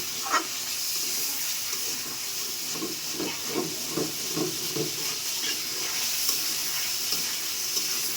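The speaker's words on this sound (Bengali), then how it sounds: "কচুগুলো সুন্দর করে কষিয়ে নেব।" Taro pieces sauté in a hot pan with a steady frying hiss, while repeated spatula strokes scrape and stir through the middle of the clip, moderately close and with no voices.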